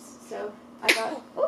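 A single sharp sneeze bursts out close by in the middle of a short moment of casual speech, and talking resumes right after it.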